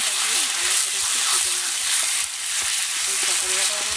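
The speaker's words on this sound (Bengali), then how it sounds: "পটল বাটাটা দিয়ে একটু ভালো করে নাড়াচাড়া করে ভেজে নেব" Ground pointed gourd paste sizzles in a pan as it is stirred and fried, a bright continuous hiss with intermittent scraping taps, while a voice talks over it at moderate level.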